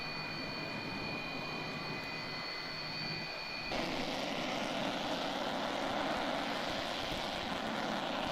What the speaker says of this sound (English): That's the C-17 that came in.